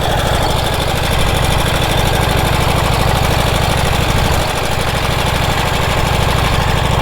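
A 108-year-old Harley-Davidson motorcycle engine runs loud and close with a steady, rapid chugging beat, one brief dip midway before the pulsing rhythm resumes.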